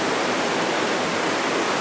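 A creek flows beside a hiking trail, a dense, steady rush of water that fills the whole moment at even loudness, close by and with no voices.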